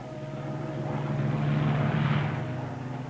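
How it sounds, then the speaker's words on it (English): A German propeller airplane drones overhead in a steady engine hum that swells toward the middle of the pass and eases slightly at the end, with no voices present. "Then this German plane comes along and spots us."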